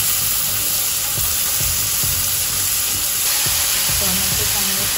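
Tomatoes tipped into onions already frying in a pan, giving a steady, loud sizzle and hiss throughout, with occasional low clunks of stirring and no voices.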